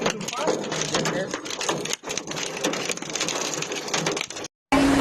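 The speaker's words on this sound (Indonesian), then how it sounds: "Hujan es di Cikaret," Hail pelting down in Cikaret, Cianjur during a storm with strong wind, a dense, loud, continuous clattering roar of ice hitting surfaces, broken by a brief dropout near the end.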